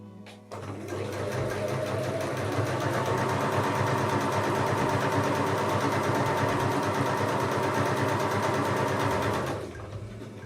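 A sewing machine stitches the darts on a skirt panel in one steady, continuous run of about nine seconds, close and fairly quiet, starting and stopping cleanly with no talk.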